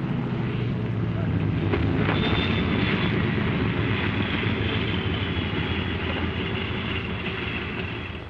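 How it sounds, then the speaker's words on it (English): A pilotless Navy drone fighter coming in to land on a flight strip during the 1946 Operation Crossroads tests, heard as a steady, loud engine roar that fills the whole stretch and eases slightly at the very end. "air control is switched to the ground control officer at the edge of the flight strip, who lands the pilotless aircraft."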